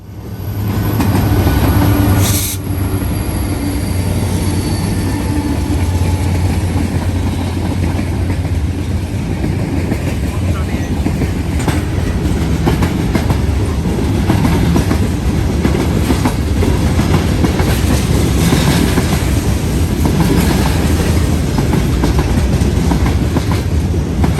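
A long freight train rolls steadily past at close range on the Big Four route between Cincinnati and Columbus, with NS SD70ACE and Dash-9 44CW mid-train units. Continuous loud rumble and clickety-clack wheel noise carry on, with occasional squeals.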